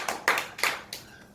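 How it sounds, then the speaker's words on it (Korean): A few people clap briefly, four separate distinct hand claps in slow rhythm, close and fairly loud, then fading, with no voices. "건대에게 일단 큰 박수 쳐주고 싶어요"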